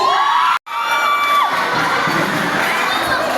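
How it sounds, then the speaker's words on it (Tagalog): A crowd at the Barako Magayon 2025 pageant cheers and shouts loudly, with children's high-pitched whoops and screams over a dense roar that cuts out briefly, then surges back and holds steady. "Labang hiyawan dyan."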